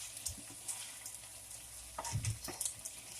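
Onions and garlic sautéing in a pan while being stirred, a soft continuous sizzle broken by scraping spoon strokes and light clinks, close and without speech.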